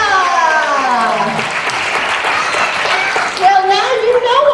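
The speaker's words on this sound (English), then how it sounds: "let's give a big round of applause for Jerry Bickle." An audience applauds after a live puppet performance of Three Billy Goats Gruff, the clapping running underneath prominent voices that speak and call out over it.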